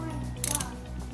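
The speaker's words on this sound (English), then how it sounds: "So just get it snug before you torque it down." Ratchet snugging bolts on a motorcycle during radiator and oil/water pump replacement makes a quick burst of clicks, close and brief, over a steady mechanical hum.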